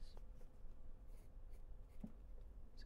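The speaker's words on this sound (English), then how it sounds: "I've got a little pencil and paper to write down your answers" A pencil scratches on paper in soft, close strokes with brief pauses between them, very quiet and alone.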